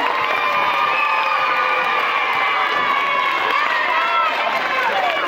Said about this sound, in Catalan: Un fort aplaudiment també a la mestra d'infantil.